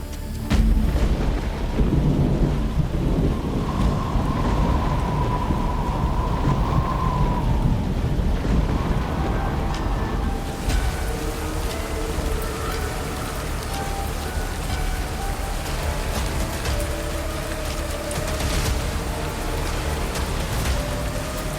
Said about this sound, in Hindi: इस बारिश से बचने के लिए मुझे कहीं छुपना पड़ेगा।